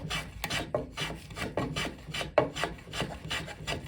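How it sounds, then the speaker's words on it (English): A hand plane shaves down a wooden patch on a chair leg, making a series of short, crisp rasping strokes in an uneven rhythm, close and clear with no talk. "So it's just a matter of planing that smooth."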